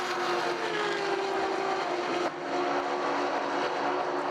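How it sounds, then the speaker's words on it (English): A white BMW E36 race car with an LS V8 screams down the straightaway at a road-course race, a loud, sustained engine roar that holds high revs throughout, with a brief dip midway before surging on. "Amazing noises from these race cars."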